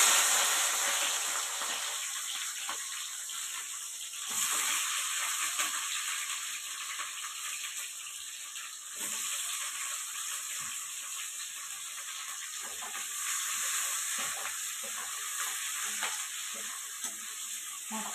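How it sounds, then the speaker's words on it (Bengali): Capsicum, onion, green chilli and tomato fry in a wok for chilli chicken, giving a soft steady sizzle with intermittent scraping and stirring taps throughout, fairly quiet and unaccompanied by talk. "তো ক্যাপসিকামটা যে ভাজা ভাজা হয়েছিল ওতে পেঁয়াজ, কাঁচা লঙ্কা আর টমেটো দিয়ে একটু ভাজছি"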